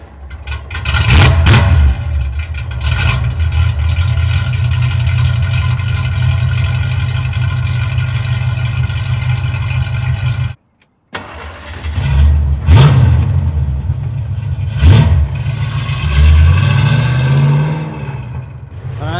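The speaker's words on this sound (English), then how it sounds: "here's the Mustang at idle, so you guys can hear it" A 1965-66 Ford Mustang with a 289 V8 and Black Widow Venom 250 exhaust rumbles loudly and steadily at idle after a cold start, with several sharp throttle blips and a brief cut near the middle.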